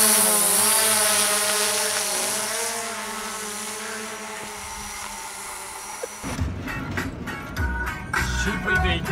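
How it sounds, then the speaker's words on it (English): A drone lifts off and flies up outdoors in the Australian bush, a loud steady propeller whine that fades, then gives way to rustling wind and handling noise. "So the boys sent up the drone to try and find me."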